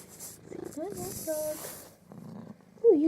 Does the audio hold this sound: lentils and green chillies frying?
no